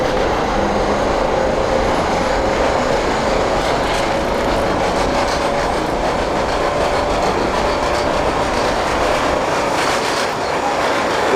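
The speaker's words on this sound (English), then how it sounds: "This is a Manhattan-bound F Express train." A Manhattan-bound F Express subway train in the OpenBVE train simulator game, running through a snowy run with a loud, continuous rumble of wheels and motors and a faint steady whine, no voices.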